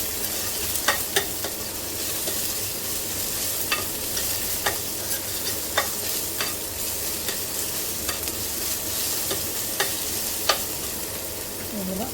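Ginger garlic paste sizzling steadily in a pan for mushroom masala gravy, with a spoon repeatedly clicking and scraping against the metal as it is stirred, close and continuous with no talking.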